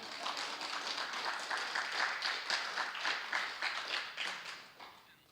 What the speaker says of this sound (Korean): 이때는 박수가 있어야죠.